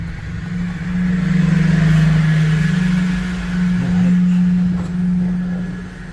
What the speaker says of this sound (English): And this truck is just so quiet.